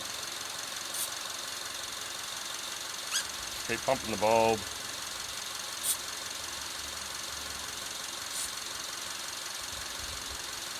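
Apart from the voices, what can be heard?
Subaru car engine idling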